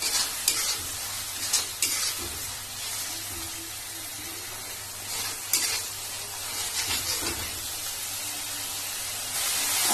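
Vegetables for veg chowmein sizzle and hiss in a hot pan while a utensil stirs and scrapes in bursts, close and fairly loud, with no speech over the cooking.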